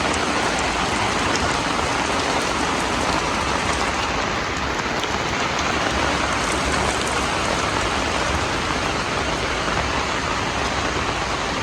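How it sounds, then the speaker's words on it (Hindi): Steady, dense rain falls without pause, a continuous hiss of drops striking surfaces close by, with no voices. "लगातार बारिश दे रहे हैं।"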